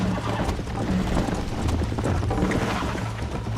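Horse galloping in Red Dead Redemption, rapid rhythmic hoofbeats close and loud over a rumbling game soundscape, continuous without pause.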